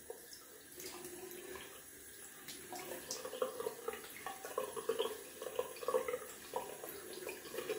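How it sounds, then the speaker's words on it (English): Cold water splashed onto the face at a bathroom sink during a wet shave, a running tap hissing steadily underneath with irregular close splashes and drips. "Gonna splash some cold water to the face."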